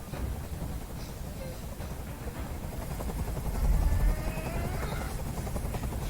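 A helicopter in the video game Detroit: Become Human drones with a low, steady rotor rumble that swells louder briefly mid-way, heard alone with no talking.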